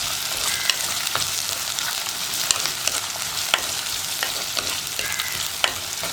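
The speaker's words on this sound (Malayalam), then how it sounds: "ഈ സവോള ഒന്ന് കുക്കായി വരുന്നത് വരെ ഇളക്കി കൊടുക്കുക." Sliced onion and curry leaves sizzle steadily in a hot pan for a tomato spinach curry, with a spoon scraping and stirring in irregular clicks throughout; no voices.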